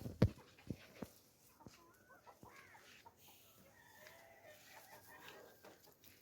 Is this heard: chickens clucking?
yes